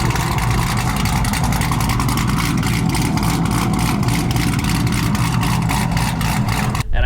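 Chevrolet Camaro V8 idling with long tube headers, a deep, steady, loud rumble with a fast, even pulse, heard up close throughout.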